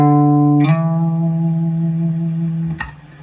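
An electric guitar note played through effects is slid with the index finger, the pitch shifting near the start and again near the end, sustained and clear with no talk.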